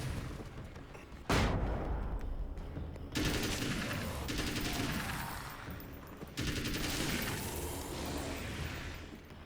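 Gunfire in the Alan Wake video game: a sharp flashbang burst gives way to loud, dense, sustained volleys of shots that keep rolling in heavy waves with almost no pauses.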